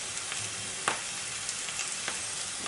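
Chistorra sausage with onions fries in oil in a pan, a steady close sizzle with occasional soft crackles and stirring scrapes.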